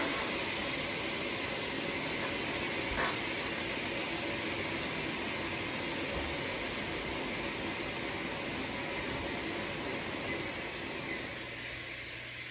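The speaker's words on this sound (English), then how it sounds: "I just heard that my pressure cooker is done, so I'm going to release the gas on that" A pressure cooker vents steam during gluten-free dinner prep, a loud, steady rushing hiss that runs unbroken for the whole stretch with no talking over it.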